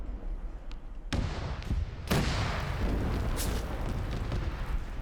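Mortar rounds pound vehicles in the Arma military game, with two sharp, heavy booms about a second apart followed by a rolling, sustained rumble of impacts.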